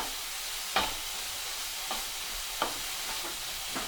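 Broccoli stir fry tossed in a pan, a soft continuous sizzle broken by a few sharp scrapes and knocks of the spatula, close by, no talking.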